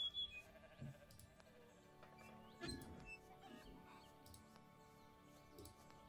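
Goat bleats in the farm video game The Stillness of the Wind, faint and intermittent against quiet ambient farmyard sound with distant bird-like calls, and no voices.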